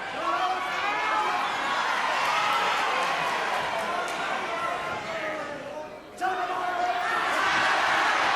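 Spectators at a 1979 World of Sport wrestling bout between Chris Adams and Mark Rocco keep up a loud, continuous roar, with a commentator talking over it and a brief dip near the end.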